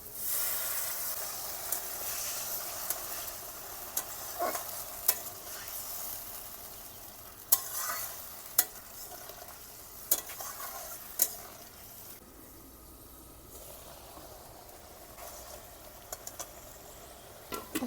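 Pangas fish curry sizzles and hisses in a pan after a little water goes in, a steady steamy frying wash broken by sharp crackles and pops throughout.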